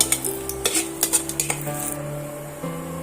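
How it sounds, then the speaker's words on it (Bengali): Dried red chillies fry in hot oil in a pan, with a soft sizzle under repeated clinks and scrapes of a stirring utensil against the cookware, plus a faint steady hum in the background. "শুকনো লঙ্কাটা আমি তেলের মধ্যে অ্যাড করে দিলাম শুকনো লঙ্কাটা দিয়ে সুন্দর করে এটা আমি সময় ধরে বেশ কিছুক্ষণ ধরে ভাজা করে নেব"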